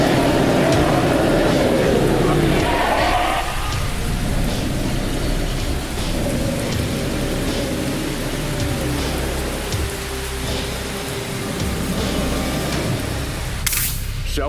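A heavy rain shower pours down in a steady, loud hiss with low rumbling thunder underneath, ending with a sharp crack near the end.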